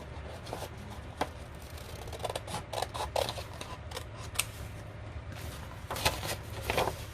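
Scissors snip through a paper file folder in a series of faint, close, crisp cuts, with light paper rustling between them over a soft background hum.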